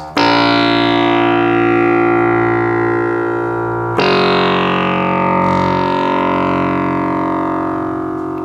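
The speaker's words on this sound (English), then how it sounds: "you hear all those FM synthesis sounds" Two long, metallic FM synthesis tones from a Minimoog Model D ring out one after another, each struck sharply and slowly decaying with bright, clangorous overtones.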